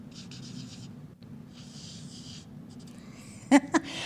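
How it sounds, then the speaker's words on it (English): Marker drawing a head on a classroom board, long scratchy strokes coming in bursts with pauses between, fairly faint with room noise, ending in two sharp taps. "I'm going to draw a picture of a head"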